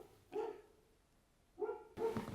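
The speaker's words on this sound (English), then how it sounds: "I just totally woke up the dog" A dog that has just been woken gives three short, muffled barks spaced over a couple of seconds, nearby and moderately loud, with no talking.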